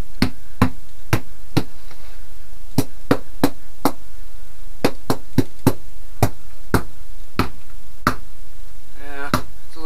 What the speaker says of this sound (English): I should not be able to stab through plywood